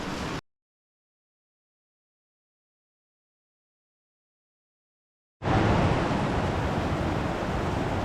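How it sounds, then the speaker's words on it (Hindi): The Alaknanda river flows near a ghat at Ukhimath, a steady broadband rush of water that cuts in abruptly after a long silence and holds loud and even to the end. "तो अलकनंदा नदी ये रही सामने बहती हुई, इनकी कलकल आवाज़ आप सुन ही सकते हैं"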